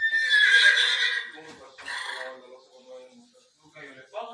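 A horse gives a loud, close whinny, followed by a second shorter neigh and softer trailing snorts.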